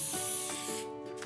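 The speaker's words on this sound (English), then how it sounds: "just gently spray" A short hissing spray from an aerosol can of edible gold shimmer spray onto a cake, close by, in a few quick bursts with faint clicking between them.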